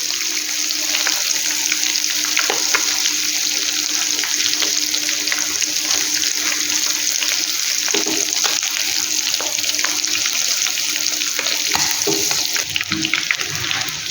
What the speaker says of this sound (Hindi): तकरीबन 2 से 3 मिनट तक हाई फ्लेम पर इसी तरह हम चिकन को एक साइड से पका लेंगे, थोड़ा ब्राउन कर लेंगे